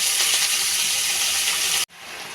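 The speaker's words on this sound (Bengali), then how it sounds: "তেলে রসুন দিয়ে রসুন ভেজে নিলাম, দিয়ে দিচ্ছি কেটে ধুয়ে রাখা শাক" Chopped, washed red amaranth greens hit hot oil with fried garlic and set off a loud, hissing sizzle close by. The sizzle holds steady, then cuts out abruptly and comes back more quietly.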